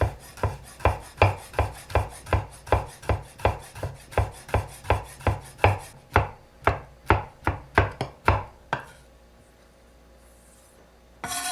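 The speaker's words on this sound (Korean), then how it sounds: "얇게 점인 오렌지 껍질을 채 썰어 주세요." A knife cutting thin strips of orange peel on a cutting board, a rapid regular run of sharp close taps that spreads into a few looser strokes before stopping.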